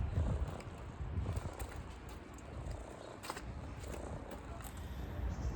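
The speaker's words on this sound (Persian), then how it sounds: "آی گربه هی میاد لای پای من ویراژ میده" A cat purrs close by in a low, continuous rumbling drone that swells and eases in slow rhythm, with faint background noise around it.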